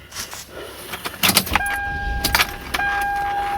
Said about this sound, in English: Okay, the car's now on.